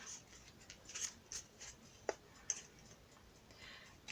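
Scissors trimming paper for a handmade mini album: a few quiet, close snips and clicks scattered over a soft background, with one sharper cut standing out.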